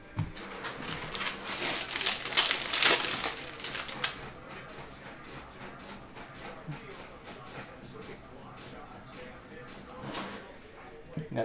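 A Prizm hobby trading card pack is torn open with loud crinkly foil ripping for about four seconds, then quieter rustling and card handling follow, with a muffled voice faintly underneath.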